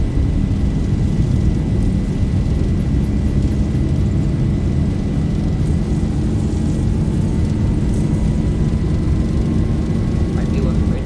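A Boeing 737-600 takes off in the X-Plane 11 flight simulator, a loud, steady engine roar with a deep rumble that fills the whole stretch without letup.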